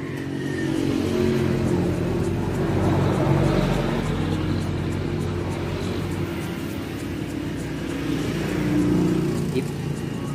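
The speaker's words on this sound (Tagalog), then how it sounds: "Pasensya na, medyo maingay po dito. Tabi po kami ng highway." Traffic from a nearby highway rumbles steadily as a low, broad roar with passing vehicles swelling and fading, continuous beneath the scene while someone works outdoors.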